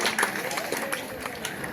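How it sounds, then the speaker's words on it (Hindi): Applause from an audience at a parent-teacher meeting, a steady wash of clapping heard under a speaker's voice amplified over the crowd. "जोरदार ताली इनके लिए भी बजाएं।"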